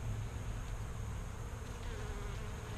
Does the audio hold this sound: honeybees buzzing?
yes